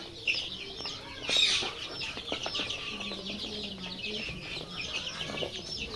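Tiger layer desi chicks mixed with white layer chicks in a poultry setting chirp and cluck continuously, with high peeps and one louder burst near the start, at moderate distance and with no clear talking.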